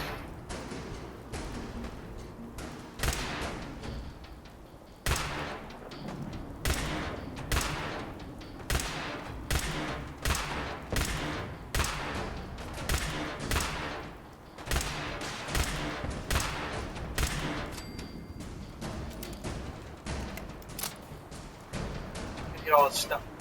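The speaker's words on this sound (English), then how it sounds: "Rocket launcher dude shooting at me." Rapid bursts of enemy gunfire from the video game Fallout 4, with repeated loud volleys and machine-gun-like rattles, explosive thumps, and a player talking over the fighting throughout.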